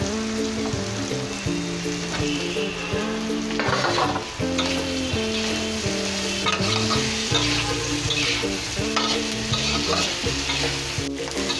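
Cauliflower fries in a pan of hot oil with a steady, dense sizzle. Stirring clatters and scrapes over it throughout, loud and close, with no talk.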